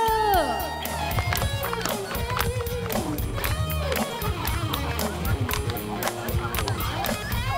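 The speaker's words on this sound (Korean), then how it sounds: "박수!" An audience at a high-school girl's singing performance claps along in a regular beat, blending with loud band music, crowd noise and singing.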